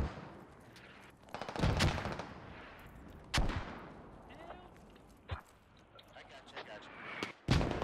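Gunfire in Squad, a tactical military shooter, with several sharp shots near and far, some in short bursts, spread irregularly over steady background noise.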